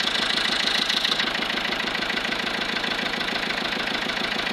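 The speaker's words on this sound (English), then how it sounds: "This is a big, big tractor." A big tractor engine idles while powering a sawmill through a V-belt, a loud, steady, rhythmic low chugging with a hissing fan-like rush above it and no voices.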